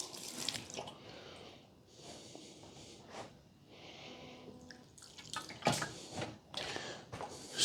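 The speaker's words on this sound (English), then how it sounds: "Give the bark a bit of a water." Water sprinkled over the bark on a pomegranate bonsai, intermittent close splashes and drips in short bursts with quiet gaps between them.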